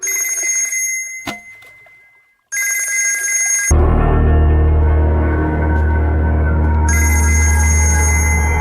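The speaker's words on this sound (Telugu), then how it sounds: "రషీద్ బై ఫోన్ ట్రై చేస్తున్నాడు" Telephone bell ringing in bright repeated bursts in a movie scene, separated by short pauses, with a loud low rumbling soundtrack swelling underneath partway through.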